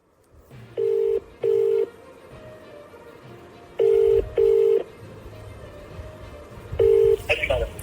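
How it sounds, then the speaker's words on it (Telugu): Telephone keypad tones dial out before a recorded phone call: five loud, even beeps in two pairs and a single, with quiet line hiss between them. "ఇప్పుడు వినుత తెలుగుదేశం పార్టీ అధ్యక్షుడు నరసింహ యాదవ్తో ఫోన్లో సంభాషణ ఇప్పుడు చూద్దాం"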